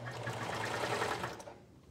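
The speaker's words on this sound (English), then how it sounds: "also give all the credit to my serger for being able to sew projects fast because it is so fast and easy" A fast serger sewing machine stitching a kids' bathrobe, a loud, close, steady whirring hum that runs continuously before easing off near the end.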